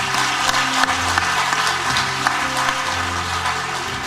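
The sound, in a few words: audience applause at awards event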